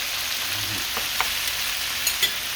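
Beef and vegetables for a stir fry sizzle steadily in a hot pan, a constant close hiss with a few brief crackles and pops, and no talking.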